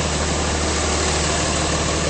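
A 5.9L diesel engine in a 2005 Dodge Ram 2500 pickup idles steadily nearby, a smooth continuous rumble with even vibration and no voices.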